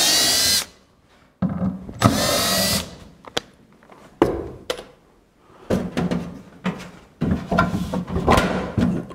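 Power drill working screws out of a single standing seam metal roof panel, heard in several short whirring bursts separated by pauses, with clanks and handling noises in between.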